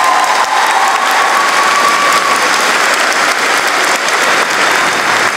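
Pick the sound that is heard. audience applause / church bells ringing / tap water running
audience applause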